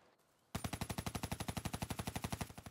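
The Kuda SMG in Black Ops 3 fires one sustained automatic burst after a short quiet start, a fast, even rattle of loud, closely spaced shots.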